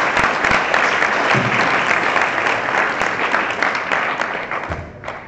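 An audience at a student association congress applauds after a candidate's speech, dense steady clapping that holds loud and then begins to thin toward the end.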